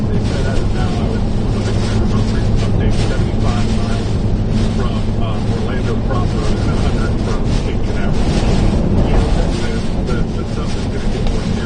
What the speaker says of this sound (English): Big gusts of wind out here, folks.